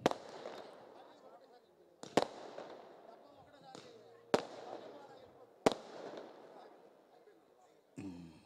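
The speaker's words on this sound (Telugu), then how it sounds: "ఇక క్రాకర్స్ ఆపండి బిడ్డ." Firecrackers bursting at an evening public gathering, four sharp loud cracks spaced a couple of seconds apart, each trailing into crackle and echo, with a voice speaking through the gaps.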